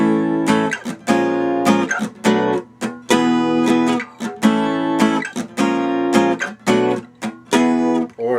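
An acoustic guitar strums the verse chords of a song in a bouncy rhythm of clear, ringing strokes, close and solo with no voices.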